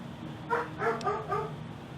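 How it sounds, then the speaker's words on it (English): Dog barking indoors, several short mid-pitched barks in an uneven burst of about four, moderately loud over a steady background hum, with no talk. "my dog apparently does not like that"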